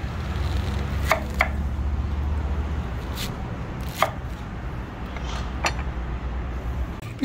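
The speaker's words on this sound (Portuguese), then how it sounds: "Pode cortar a cebola assim, ó, só em quatro mesmo" A knife chops onions into quarters on a board for octopus rice, landing about six sparse, sharp chops over a steady low kitchen hum with no talking.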